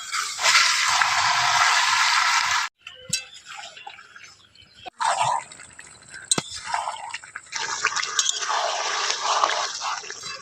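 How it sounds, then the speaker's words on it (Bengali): Marinated chicken pieces are stir-fried in a pan, giving bursts of loud sizzling broken by quieter gaps, with clinks and scrapes of a spatula between the sizzles. "এবার শুধু ভালোভাবে কষিয়ে নিতে হবে মাংসটাকে।"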